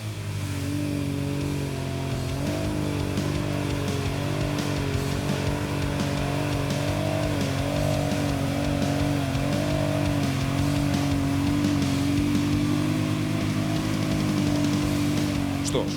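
A Bison Explorer 320 4x4 quad bike pushes slowly through deep mud in low-range gear with the differential lock engaged, its engine droning steadily and loudly throughout, swelling slightly as it revs under load.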